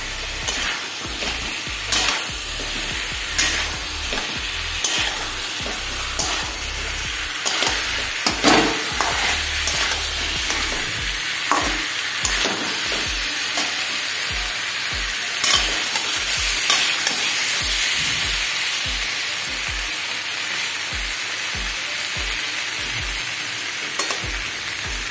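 Snakehead fish, potatoes and mango fry together in hot oil with a loud, steady sizzle, while a spatula scrapes and stirs the pan in frequent rhythmic strokes throughout, close up with no talking.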